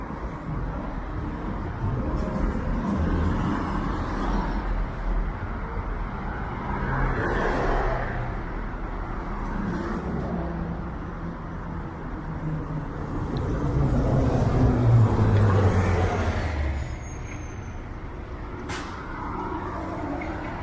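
Steady street traffic on Bathurst Street in North York, Toronto, with cars, buses and trucks passing continuously; a louder vehicle swells by midway and a hiss like an air brake comes near the end.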